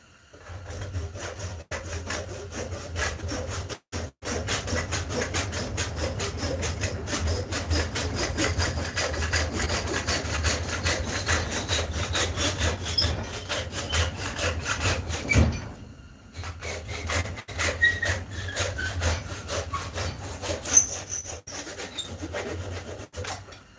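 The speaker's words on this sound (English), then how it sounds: "Then we'll cut that excess off and throw a wedge in it." Hand saw cutting off excess wood from a sword handle before a steel wedge goes in, with steady back-and-forth rasping strokes that run continuously, break briefly, then resume close up with no talking.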